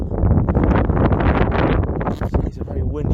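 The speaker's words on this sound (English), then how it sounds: "It's a very windy day here" Gusty wind buffets the microphone at an under-16 football match at Rockcliffe Park, a steady loud rumble running throughout beneath a commentator's voice.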